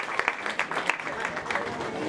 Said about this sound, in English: give them a big round of applause, everyone.